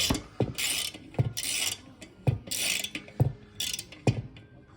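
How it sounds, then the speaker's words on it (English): Sharp mechanical clicks of a ratchet wrench installing an exhaust on a Honda TRX250X four-wheeler, in a steady rhythm, about ten ticks spread over a few seconds, close by with no speech. "If you don't hear the ratchet working, you're just tightening and loosening."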